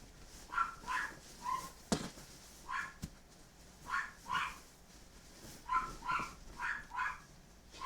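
A dog barks indoors during a weighted-blanket sewing session, giving about a dozen short, mid-distance barks and yips in loose clusters. Quiet room tone fills the pauses between bursts.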